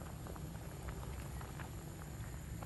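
Mangalore-style kingfish curry bubbles in a pot at a steady boil, a faint continuous patter of small bursting bubbles with no voices.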